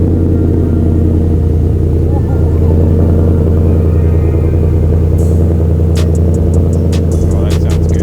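A 2021 Ford F-150 fitted with a Roush exhaust idles after a cold start, a loud steady low exhaust rumble running throughout, with a few sharp clicks and knocks near the end.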